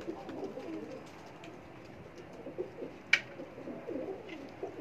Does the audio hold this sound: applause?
no